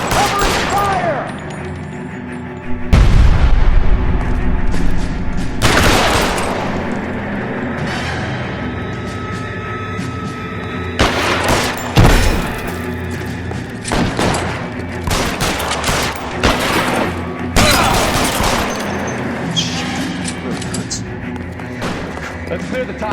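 A warehouse shootout in the video game L.A. Noire brings loud bursts of gunfire with heavy booms among rapid shots, while voices shout over the constant background din.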